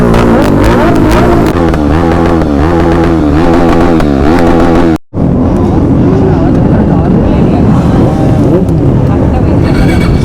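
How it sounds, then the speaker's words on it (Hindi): Superbike engines rev loudly at a KTM group rally on Independence Day, the tones rising and falling in repeated blips before a brief cut, then a rough roar of several bikes idling and revving close by. "सुनो सुनो सुपर बाइक का"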